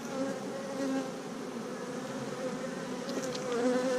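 Honey bees buzz inside an opened beehive during an inspection, a dense, steady drone of many wings close by, with individual bees rising in pitch as they pass.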